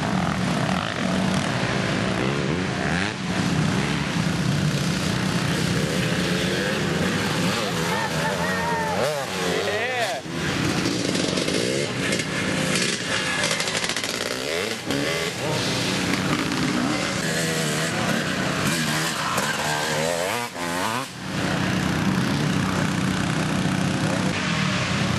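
Racing cars in a team race roar continuously past on the track, a loud, dense engine drone that swells and fades as cars pass, with commentary talking over it.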